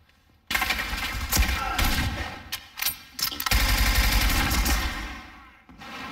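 Loud video game gunfire bursts in from near silence: rapid automatic volleys and separate shots, with thumps and short gaps between bursts.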